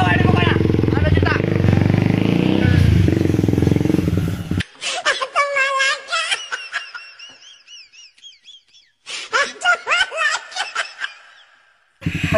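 A motorcycle engine roars loud and close for several seconds, then cuts off, leaving bursts of snickering laughter and chatter from several people.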